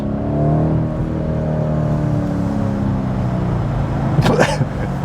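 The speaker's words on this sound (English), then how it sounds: "this is a speaker assisted engine note" The engine note of a 2019 BMW M850i coupe, partly played through its speakers, hums steadily with a rising, harmonic tone as it accelerates, loud and close, with a brief burst of noise near the end.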